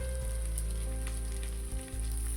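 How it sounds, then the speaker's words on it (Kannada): Finely chopped carrots and beans fry in oil, a steady close sizzle with brief dips as the vegetables are stirred, and no voices. "ಕ್ಯಾರೆಟು ಬೀನ್ಸು ಸಣ್ಣದಾಗಿ ಕಟ್ ಮಾಡ್ಕೊಂಡಿರೋದ್ರಿಂದ ಬೇಗ ಫ್ರೈ ಆಗುತ್ತೆ"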